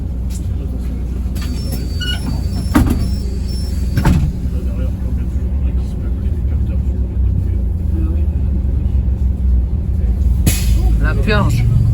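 Paris city bus interior with engine rumble throughout and sharp bursts of air brake purge hissing, under ongoing speech from a passenger.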